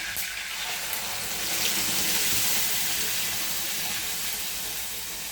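Hot tempering poured into a tomato and onion chutney, a loud continuous sizzling hiss that swells briefly in the middle and holds steady, with no voices.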